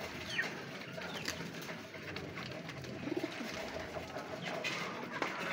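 Domestic stock pigeons coo softly in a loft, low murmuring calls sitting faintly in a busy background of rustling and ambient noise.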